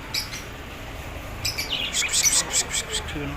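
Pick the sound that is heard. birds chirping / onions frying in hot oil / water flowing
birds chirping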